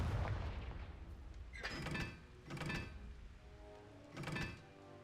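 The Confringo fire blast spell in Hogwarts Legacy, heard as three booming thuds with fiery crackle. Each has a short rumbling tail over low background rumble, and no one speaks.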